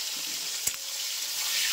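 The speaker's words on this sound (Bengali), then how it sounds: "তেলে গোটা গরম মশলা জিরে ফোড়ন দিয়েছি, এখানে টমেটোটা দিয়ে দিলাম" Tomato dropped into hot oil with whole garam masala and cumin seeds, giving a continuous bright sizzle with one brief clack partway through, close and even.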